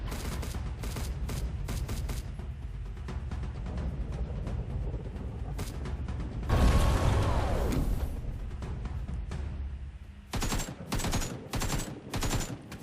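AK rifle gunfire in Survive and Rise, with repeated sharp shots in clustered bursts, a louder blast partway through, then more rapid shots near the end, all fairly close.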